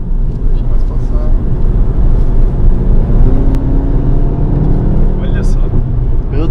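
Volkswagen Golf GTI engine and exhaust drone loudly from inside the car during a top-speed run, a continuous heavy rumble with rising tones as it accelerates, while people talk over it.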